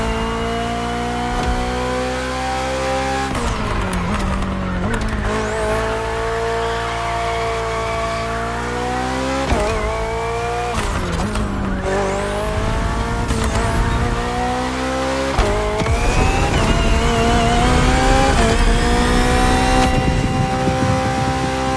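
A hybrid V8 race car engine in The Crew Motorfest, a BMW, drones loudly and steadily, its pitch rising and falling through gear changes with tire squeal and hard acceleration near the end.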